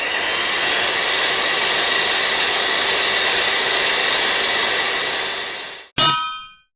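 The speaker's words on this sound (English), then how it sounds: "Now let's mix everything up so that we can put the cookies on the tray" An electric mixer whirs steadily and loudly for about six seconds while combining cookie ingredients in a bowl, then cuts off with a bright metallic clang that rings out briefly, with no talk.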